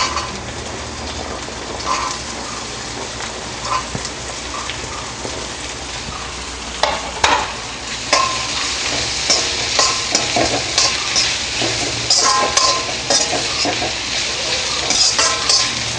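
Carrots and beans sizzle on high flame in a pan for veg fried rice, a loud continuous crackle broken by bursts of stirring scrapes that grow busier toward the end.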